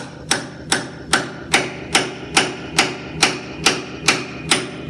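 Hammer striking a punch to drive a badly corroded shock absorber off a Land Rover Series 1 107 axle, a dozen sharp metallic blows in an even, steady rhythm, loud and close with no talking.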